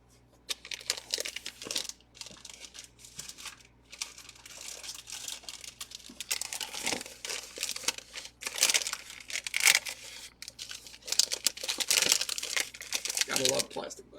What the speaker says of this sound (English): Gotta love plastic bags.